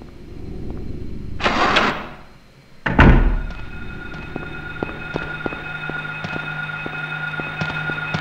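Two heavy shotgun blasts in the Silent Hill horror game, about a second apart and both loud and close, followed by a low hum with faint ticking.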